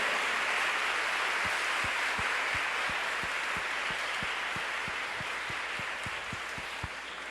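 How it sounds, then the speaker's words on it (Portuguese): Church congregation clapping in a steady, even rhythm, roughly two claps per second, over a constant broad wash of noise throughout; no talking. "Quanto mais fraco você se sentir, aplauda mais ainda."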